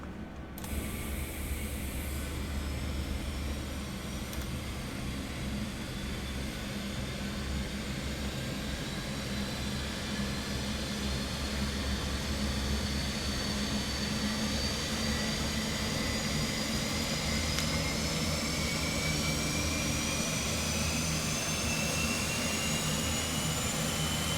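An Airbus A400M turboprop engine spools up on the ground, a loud steady roar with rising whine that builds continuously and stays close throughout, no talk over it.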